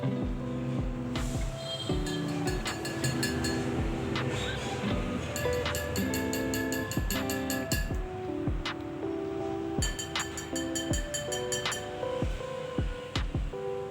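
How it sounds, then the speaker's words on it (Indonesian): Repeated clinking taps on the outer wall of a glass bottle filled with water, bright ringing strikes in quick irregular runs with short pauses, close and clear, no talking. "Jadi kita coba untuk mengetuk kembali dinding luar botol ini."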